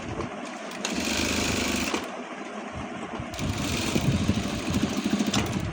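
A sewing machine runs two steady bursts while double-stitching the side pocket of a pair of shorts, its close mechanical whir pausing briefly between passes.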